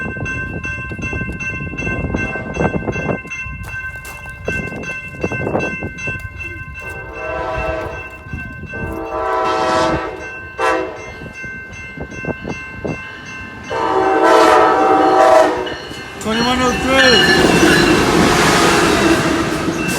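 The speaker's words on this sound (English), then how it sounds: "Here comes San Joaquin train 7-Eleven." A five-car San Joaquin passenger train bound for Oakland rumbles through Antioch, sounding several long loud horn blasts as its wheels clatter and squeal past nearby.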